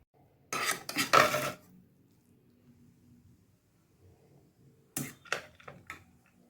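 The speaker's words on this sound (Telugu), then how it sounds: "సర్వింగ్ బౌల్లోకి సర్వ్ చేసుకుందాము." Jeera rice being spooned from a pot into a serving bowl: two short bursts of metal spoon scraping and clinking against the cookware, separated by near silence.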